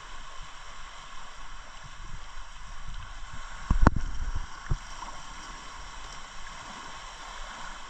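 Gentle water lapping and splashing from a small boat being paddled, with a soft steady wash and one louder knock partway through.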